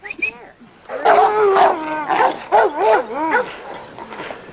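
Pistol, a kennel yard dog, lets out a run of loud, close barks and yips with whining tones, repeated in quick succession with brief gaps.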